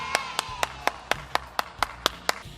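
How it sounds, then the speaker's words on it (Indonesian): Children clap their hands in a steady, even rhythm, about ten sharp claps in under three seconds, close and clear over a faint low background hum. "tepuk tangan dulu dong buat Super Kids"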